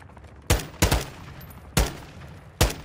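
Four sharp, loud gunshots from Call of Duty Modern Warfare II DMZ: a close pair, a pause, then two more single cracks, each with a short fading tail and no talking.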